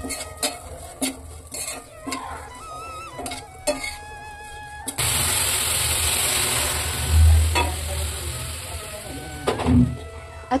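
Vermicelli dry roasting in a pan, with a steady loud sizzling hiss from about five seconds onward and scattered stirring clatter before it, close and without talk.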